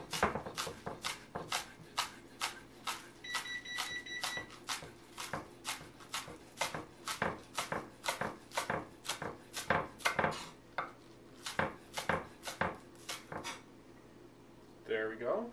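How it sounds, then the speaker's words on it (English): A knife chopping green onions on a cutting board in a home kitchen, a quick steady run of close, crisp taps over about fifteen seconds with a faint background hum. "next we're going to need a quarter cup chopped green onions"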